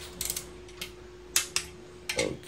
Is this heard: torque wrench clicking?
yes